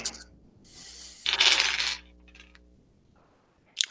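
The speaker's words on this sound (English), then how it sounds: "Sounds like a lot of dice." A handful of dice rattle and tumble across a tabletop during a tabletop role-playing game session, a clattering burst that swells and fades, with quieter clicks afterward and no talking.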